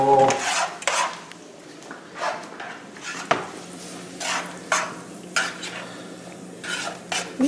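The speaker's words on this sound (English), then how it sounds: "And you want to mix that all up." Ingredients for eggplant with Parmesan being mixed with a spoon in a bowl, a series of separate scraping and clinking strokes at an uneven pace, close up, with quiet gaps between them.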